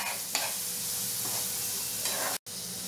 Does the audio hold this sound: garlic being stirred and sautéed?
yes